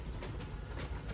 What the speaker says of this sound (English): That noise you heard, don't worry, it's nothing bad. That was just the motor reaching its limit.